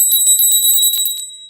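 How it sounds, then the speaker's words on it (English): A small bell is rung rapidly for a donation, about ten quick bright metallic strikes in a row, loud and close, then it rings out and fades. "Let's ring the bell."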